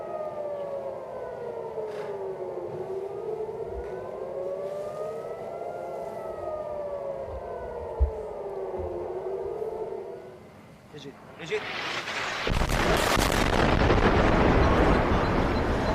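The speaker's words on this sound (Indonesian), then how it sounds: "Suara sirine terdengar sebagai peringatan warga Israel adanya serangan." Air raid sirens wail in Israel as a missile attack warning, a rising and falling tone repeating steadily for about ten seconds before a loud, broadband roar takes over near the end.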